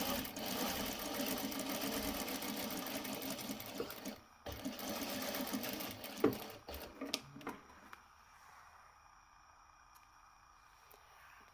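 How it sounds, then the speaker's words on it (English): Sewing machine stitching along the bottom of an unlined patch pocket, a rapid whirring run for several seconds followed by short stop-start bursts and clicks, then quiet. "And then just going to stitch along the bottom."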